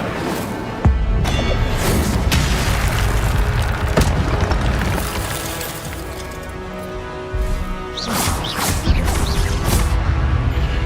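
Booming fiery spell blasts from Hogwarts Legacy combat, a loud sustained roar of crashes and explosive bursts with brief sharp hits and a second surge of impacts near the end.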